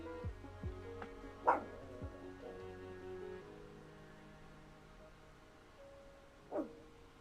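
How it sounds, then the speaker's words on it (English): A dog barks indoors: a couple of short yips early on, then a sharp, louder bark. A second bark follows several seconds later over a quiet background hum. "my God, she's barking at me"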